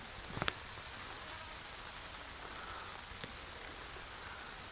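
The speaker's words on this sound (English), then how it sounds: "Rain seems to have lightened off a little bit." Light rain falls outdoors, a soft steady hiss of drops with a couple of sharper taps near the start, faint and even throughout, no voices.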